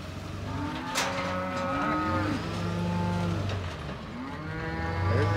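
Cattle moo loudly and repeatedly, in long overlapping calls, as they are loaded onto a trailer for sale in a wet field.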